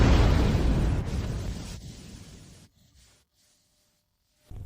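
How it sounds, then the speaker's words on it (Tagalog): A batch of alchemy pills explodes in one loud, rumbling burst that tapers off over a few seconds into near silence before a short sound returns at the very end. "Ang unang batch ay sumabog na."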